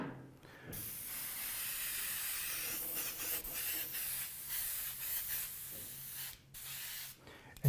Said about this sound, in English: you can stipple with the airbrush, get some of those white spots on there